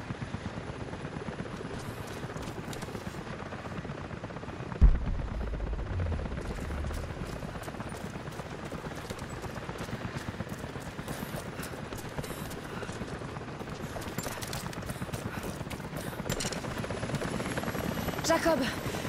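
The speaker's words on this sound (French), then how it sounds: "des hélicoptères arrivent dans votre direction." Helicopters approaching in the PS4 game Rise of the Tomb Raider, a steady whirring rotor drone mixed with game ambience and scattered clatter, with a dull thump near the start and characters talking throughout.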